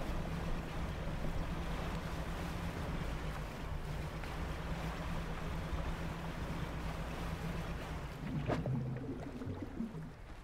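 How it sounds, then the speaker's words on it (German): Water bubbles and washes around a fishing boat in the game DREDGE, a steady soft churning hiss close by with no voices, followed by a short brighter splash near the end. "Ich glaube, das Blubbern macht mir gar nichts aus."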